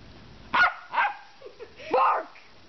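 A dog barks at another dog in a few sharp, separate barks spaced across a couple of seconds, fairly close and clear, with a quieter yip in between and no talking.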